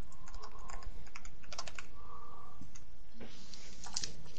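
Keys on a computer keyboard are typed in irregular bursts of close, crisp clicks. Brief pauses separate the bursts, and faint background sounds run underneath.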